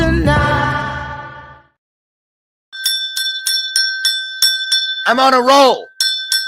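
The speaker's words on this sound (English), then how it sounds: "Ringing the bell of purpose" A bell's long ringing tone decays away, then after a brief silence a run of bright, rapid metallic dings follows, interrupted by a spoken voice.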